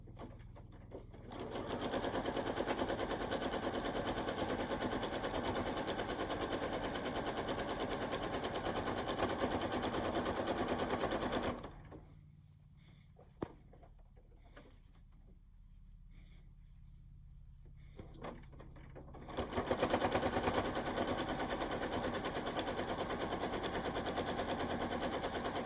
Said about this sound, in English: all I'm doing this time is sewing the sashing to the backing of the next piece.